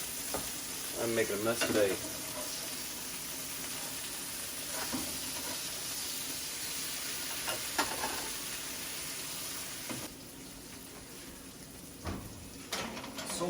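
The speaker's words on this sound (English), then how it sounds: "A little bit of butter on the bone and get that toasting" Butter sizzles in a pan as a bone toasts, a steady close frying hiss with occasional utensil scrapes and clatters, while someone speaks briefly over it.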